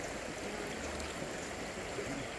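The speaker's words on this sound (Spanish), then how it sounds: "Lo bueno que corre el agua" A stream of running water flows steadily at an outdoor spot, a continuous broadband rush and trickle with no pauses and no voices.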